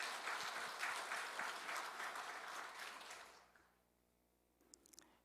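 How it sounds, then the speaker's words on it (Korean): An audience at a Won Buddhist temple service claps together in a dense burst of applause that fades away over a few seconds, followed by quiet room tone. "1호 격려의 박수를 한번"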